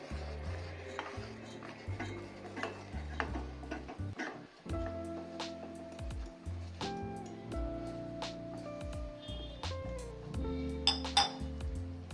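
Metal utensil clinking against a pan while wheat flour is stirred into hot jaggery syrup for sweet wheat appalu, with repeated sharp taps scattered over steady background music.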